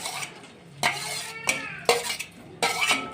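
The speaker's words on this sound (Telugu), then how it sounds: "వేడెక్కినటువంటి ఈ ఆయిల్లో మొట్టమొదట మనము అలోవెరానే వేద్దాం." Aloe vera pieces dropped into heated hair oil in a metal pan, a faint sizzle punctuated by four sharp clinks and scrapes of a utensil against the pan, close and without talk.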